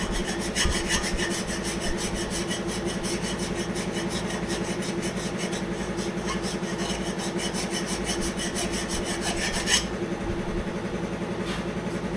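A small half-round file smooths a metal part on an old Aermacchi motorcycle, rasping in steady back-and-forth strokes close by that continue evenly for most of the clip before easing off.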